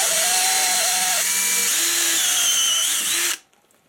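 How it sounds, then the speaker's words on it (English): A step drill bit bores through a workpiece with a loud, whining power-drill drone that holds steady for about three seconds, then stops abruptly. "It's one of those drills that just keeps drilling bigger and bigger and bigger."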